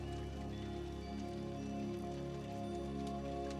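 Steady, soft rain falling continuously over a low droning hum, faint and unbroken throughout.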